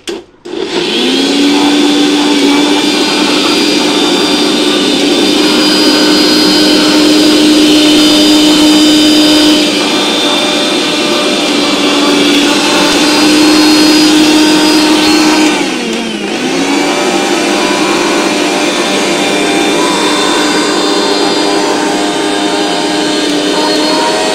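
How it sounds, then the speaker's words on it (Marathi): A mixer grinder churns milk cream into butter, running loud and continuous with a steady motor whine and whirring hum, briefly dipping and changing pitch partway before resuming at full speed. "तर अशा तऱ्हेने मी आता इथं मिक्सरला लावते"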